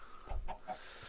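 A Minecraft chicken gives a few short, soft clucks in quick succession, faint and close, over a quiet background.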